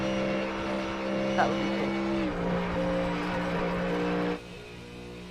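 A GTD series race car engine drones loudly with steady harmonic tones that shift pitch midway and drop off near the end, with someone talking over it.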